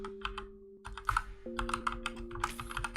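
Fingers type an email address on a computer keyboard, a brisk run of close, crisp key clicks in uneven bursts over a steady low electronic hum from nearby computer hardware.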